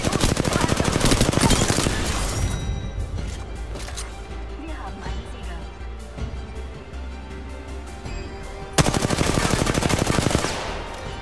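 Automatic weapon fire in the video game Apex Legends, long loud bursts of rapid gunshots at the start and again near the end, with quieter game sounds and scattered shots between.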